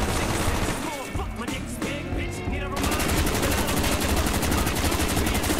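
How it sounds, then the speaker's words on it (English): A machine gun fires in the Black Ops Zombies video game with fast, dense, continuous bursts. The fire grows steadier and louder halfway through, over busy game noise. "This suggests that this machine gun is"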